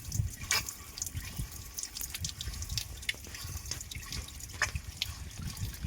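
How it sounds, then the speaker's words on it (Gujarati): Muddy coolant water drains from a vehicle radiator in a steady close trickle broken by irregular splashing drips, with no talk. "જો મિત્રો, કદડાવાળું પાણી નીકળે"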